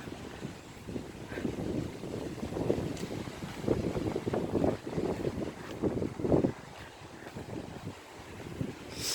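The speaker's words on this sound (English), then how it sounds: "It's really windy." Strong gusty wind outdoors in England buffets the microphone in heavy, uneven rumbling bursts, with a constant airy rush underneath and no voices.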